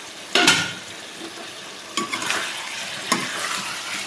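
A pot of fish and taro stolon curry is stirred in three separate bursts of spoon scraping and clinking over a soft bubbling sizzle, near and clear, without speech.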